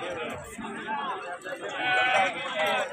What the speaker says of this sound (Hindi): खूबसूरत बकरियाँ